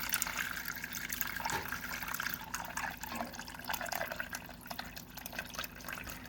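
Liquid pours along the edges of a beef roast pan in a steady, soft, continuous splash with faint drips, close by and quiet, and no talking over it.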